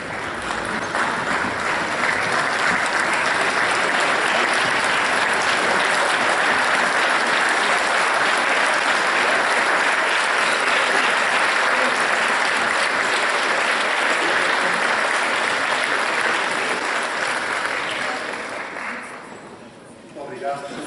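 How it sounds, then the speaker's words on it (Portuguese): A large crowd at a centenary ceremony applauds loudly and continuously for about twenty seconds before the clapping fades away. "de pedir uma salva de palmas"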